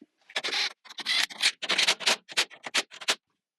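Bolts being cinched down tight on the support structure of a bed system in a Sprinter 170 van, heard as a run of about ten quick, close ratcheting bursts with brief gaps between them, with no talking.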